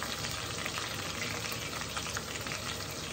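Onions fry in a pan, a steady, close crackling sizzle that continues without a break, with light stirring noises mixed in.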